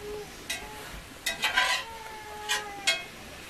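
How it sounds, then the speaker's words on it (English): A smoky garlic chicken stir-fry with spices is stirred in a small RV kitchen pan, giving several sharp utensil scrapes and clinks over a soft background sizzle, close by and with no voices. "I'm going to stir that up good so everything gets coated with some spice and seasoning"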